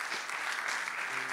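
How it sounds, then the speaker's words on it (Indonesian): Brief burst of applause from a church congregation at a Sunday morning service, a dense steady clatter of many hands filling the space, with a faint tonal hum entering near the end. "Tepuk tangan untuk Tuhan."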